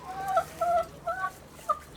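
Hens cluck softly in a hen house, four short, throaty calls spaced unevenly over a faint background, close by and with no talk.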